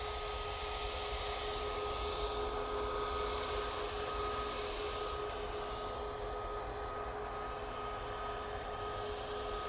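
A Ryanair Boeing 737 MAX 8 airliner taxis at Manchester Airport, its engines giving a steady, fairly distant whine and rumble that holds evenly throughout, alone with no talk.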